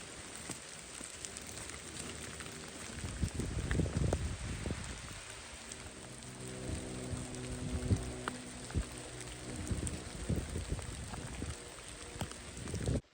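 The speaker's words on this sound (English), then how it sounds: "It is really raining down out here now" Heavy rain in a forest along a hiking trail, a dense steady hiss with heavier bursts of drops and splashes, some close thuds mixed in.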